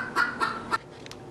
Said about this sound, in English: That's Bigwig the chicken.